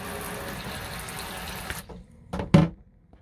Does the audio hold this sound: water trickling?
yes